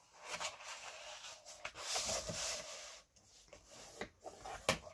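Heavyweight cardstock is burnished and folded by hand, giving soft, close rubbing and scraping strokes in irregular bursts with brief pauses between them.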